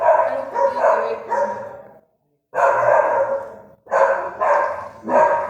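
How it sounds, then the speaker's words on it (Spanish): Several small dogs barking loudly and continuously in dense overlapping bursts, with a brief pause before the barking resumes close to the microphone. "creo que son un cuarteto de perros, creo. Y de hecho que debe ser pequeño porque ladran fuerte"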